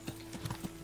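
Horse hooves clip-clop in the medieval game Kingdom Come: Deliverance, four soft, evenly spaced hoof thuds in under a second over a steady hum of background noise.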